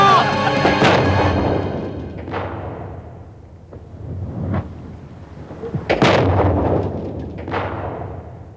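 Bomb blasts in a Hindi horror audio drama set at a haunted medical college: several heavy booming thuds with rumbling tails, one sharp crack near the middle, mixed with shouting voices.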